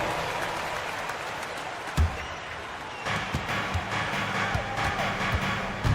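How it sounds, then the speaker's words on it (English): Steady applause from a crowd fills the whole stretch, with a few sharper claps and thumps standing out, and faint voices mixed in. "Give yourself a round of applause."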